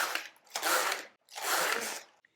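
Passap Duomatic 80 knitting machine knitting stitches off onto waste yarn, two long sweeping carriage passes with a dense mechanical whir and clatter, close up and alone.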